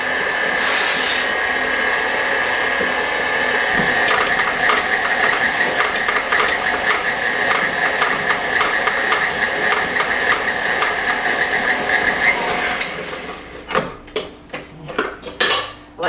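Electric mixer beating fudgy kringle cookie dough with a freshly added egg, a steady bright whir with rattling against the bowl for about thirteen seconds before stopping, followed by a few clinks of utensils.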